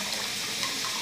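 Water runs steadily from a bathroom tap into a sink, a loud, close, continuous gush with no talk.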